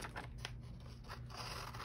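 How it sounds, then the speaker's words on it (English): Scissors cut a picture out of a magazine page, making a few quick, quiet, close snips with soft paper rustle between them. "I'm gonna cut out"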